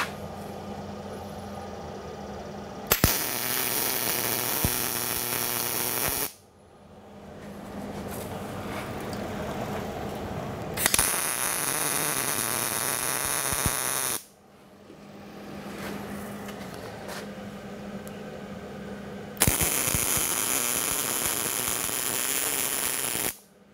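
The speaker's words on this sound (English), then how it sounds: "Let me turn the welder on and we'll get that done." Arc welding of steel pieces onto a Brown & Sharpe surface plate stand, with three loud sustained crackling bursts of several seconds each, separated by quieter pauses of shop noise.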